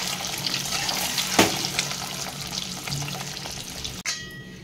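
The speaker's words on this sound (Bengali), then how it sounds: "দেখুন ডিমগুলো আমার ভাজা হয়ে যাচ্ছে" Eggs sizzle in hot oil in a kadai, a steady close frying hiss with a brief utensil clatter midway and a sharp knock near the end, with no talk.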